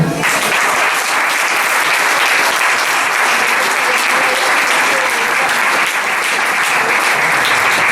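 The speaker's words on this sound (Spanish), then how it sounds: "Un aplauso al Señor." Dense, sustained applause from a church congregation fills the space for the whole stretch, loud and steady with no pauses.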